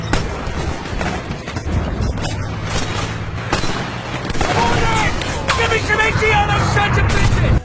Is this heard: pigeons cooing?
no